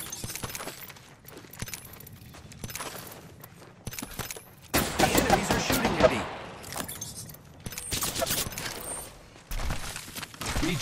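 Gunfire in Apex Legends: a cluster of sharp shots and rattling bursts during ranked play, loud in short spells between quieter stretches, with a voice calling out.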